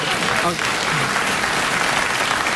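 Warm studio audience applause fills the whole stretch, a steady dense wash of many hands clapping at even loudness, with no pause.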